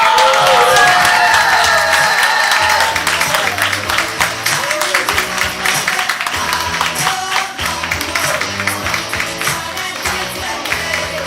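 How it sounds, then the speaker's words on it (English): A comedy improv crowd claps and cheers loudly and steadily, a dense wash of applause with music playing underneath throughout. "Get your hands clapping. Make some noise"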